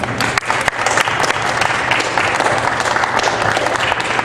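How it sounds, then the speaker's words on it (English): A student government crowd applauds steadily, dense clapping sustained at an even level throughout, fairly close. "I want to give a quick round of applause for Dean Lueger"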